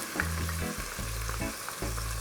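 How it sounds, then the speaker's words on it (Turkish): Steady sizzling of shallots and chopped onions sautéing in a pot for Şehzade kebab, a continuous crackling fry with a low rhythmic hum and occasional stirring scrapes. "Her şeyi güzelce bir kavuruyorum."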